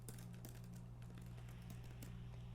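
Quiet typing on a computer keyboard, scattered soft key clicks in an irregular rhythm over a low steady hum, faint and without talk.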